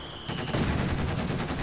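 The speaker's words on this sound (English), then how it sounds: "Two machine guns and a huge kind of Bofors-esque weapon." Two machine guns and a huge Bofors-style cannon firing together in a video game, a dense, sustained burst of rapid gunfire that starts abruptly and stays loud and close throughout.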